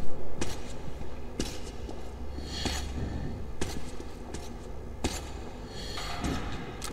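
A run of distinct footsteps in the video game Metro Exodus thudding at irregular intervals over a steady low background hum, with a brief hiss partway through; no voices.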